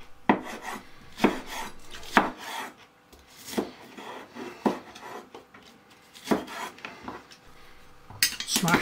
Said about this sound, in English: Slice the carrots diagonally, and the same with the spring onion.